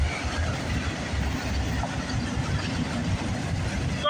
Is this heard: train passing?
yes